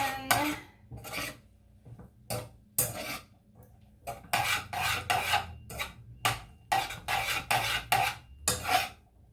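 Baby spinach being stirred into fettuccine pasta in a pot, heard as a series of short scraping, rubbing bursts of utensil against cookware, irregular and close, with no talking.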